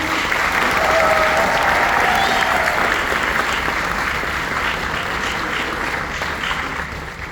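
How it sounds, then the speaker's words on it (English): An audience gives panelists a round of applause, with dense, sustained clapping close by that slowly thins toward the end. "Can we give them another round of applause?"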